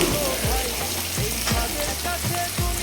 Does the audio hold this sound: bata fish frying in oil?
yes